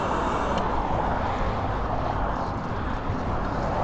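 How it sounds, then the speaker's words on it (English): Road traffic on a city street rumbles continuously as cars pass near a sidewalk, a dense steady roar with no clear breaks, recorded on a 1080p WiFi sport camera. "we can actually see how the camera handles all the noise of the traffic"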